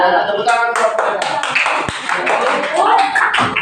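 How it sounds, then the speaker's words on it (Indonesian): A junior high classroom of students clapping for classmates after a presentation, a burst of scattered close hand claps with voices talking over them. "Ya, tepuk tangan buat mereka."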